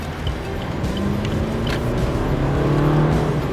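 An automatic Toyota Starlet 1.4 XS accelerates from a standstill, its engine hum rising steadily under road and cabin noise, heard from inside the car.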